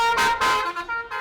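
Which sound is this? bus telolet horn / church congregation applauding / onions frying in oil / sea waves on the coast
bus telolet horn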